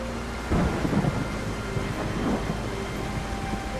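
A thunderstorm rumbles with steady rain in the video game Solarpunk, low thunder swelling in a couple of heavy rolls over a constant hiss of rainfall.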